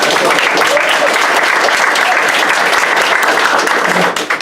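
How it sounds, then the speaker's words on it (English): Loud, steady applause from a room full of people at a team meeting, dense clapping throughout before it tapers off abruptly at the end. "Round of applause for everybody."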